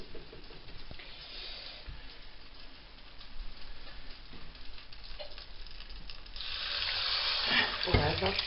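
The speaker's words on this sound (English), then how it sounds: "Oh, listen, that sizzle, yeah." Tomato puree poured over oxtail in a hot slow cooker gives a soft, watery sizzle and hiss that swells louder near the end, with faint clinks under it.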